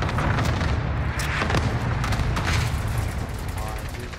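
Rapid gunfire crackles through a shooter video game match as a player takes hits from behind, the shots dense and continuous over a loud, busy game mix with a low rumble underneath.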